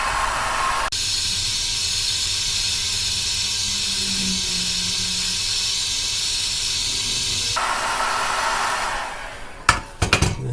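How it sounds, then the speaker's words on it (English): Heat gun blowing hot air to preheat a knife blade before dip coating, a loud, steady broadband roar held for about seven seconds, then cutting off into a few sharp clicks and knocks. "I'm just going to preheat the blade using a heat gun."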